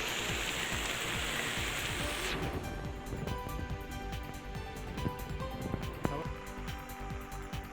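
Heavy monsoon rain falls steadily in North Bengal, a dense, continuous wash of downpour that stays loud and unbroken throughout.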